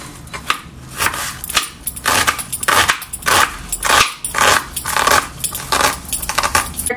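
An onion being chopped finely with a knife on a board, close and fairly loud, a quick irregular series of knocks and taps with no talking.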